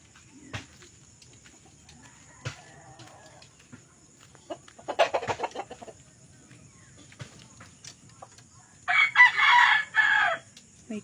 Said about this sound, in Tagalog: Maingay ang manok.